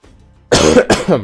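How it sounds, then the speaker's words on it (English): Two quick, harsh coughs from a sick person close to the mic, one right after the other, with nothing else around them. "Also, some coughing."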